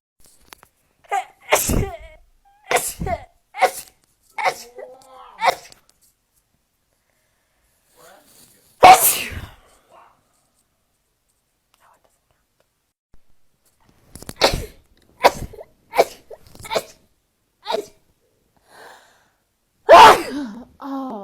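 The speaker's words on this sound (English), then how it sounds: "I've been sneezing for the past 2 hours now, I guess. Just nonstop for no reason." One person sneezes again and again in a nonstop fit, sharp explosive bursts in two clusters with short gaps and one especially forceful sneeze, close and loud with near silence between.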